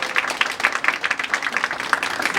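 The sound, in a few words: applause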